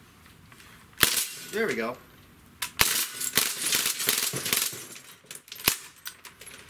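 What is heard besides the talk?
Crosman full-auto BB air rifles firing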